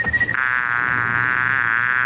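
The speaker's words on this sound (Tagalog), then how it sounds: "Anong langaw yan?" A fly buzzes loudly and close by in a steady, continuous high-pitched drone, heard alone in a scene from a Tagalog comedy film.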